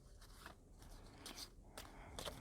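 Tarot cards are shuffled clumsily by hand, giving a steady papery riffling and scraping with a few brighter snapping bursts, close and continuous with no talk.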